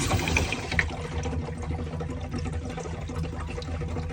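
Water gurgles and rushes through the lines of an RV camper as they drain, a continuous liquid churn with small bubbling bursts, close by and steady.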